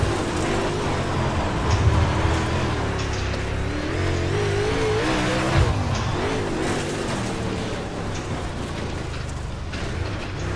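Brushless electric RC cars in a Hometown Heroes class lap an indoor track at Lanes Raceway, producing a continuous whining, buzzing motor drone that rises and falls as they accelerate and corner, with no break throughout.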